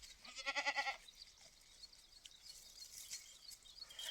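A goat bleats several times in quick succession close by, loud and wavering, then the call stops and only soft ambient rustling and faint background sounds remain.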